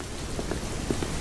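Cartoon rain falls as a steady hiss of drops on the ground, with a few soft, distinct droplet taps scattered through the brief stretch.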